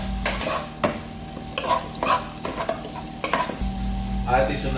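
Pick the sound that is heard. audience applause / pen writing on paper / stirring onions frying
stirring onions frying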